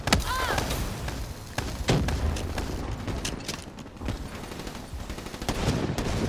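Gunfire from the video game Black Ops 3, a string of sharp shots spaced out between reloads, mixed with other game sounds and distant booms throughout.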